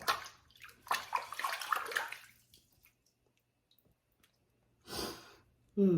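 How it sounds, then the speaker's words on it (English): Water splashes and trickles in short bursts into a tub of soft shaving soap being prepared, close and intimate, with quiet breathy sounds between pours. "I'm going to add a little bit of water, even though it's very soft."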